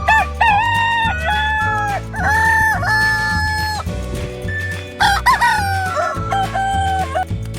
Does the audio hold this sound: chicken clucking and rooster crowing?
yes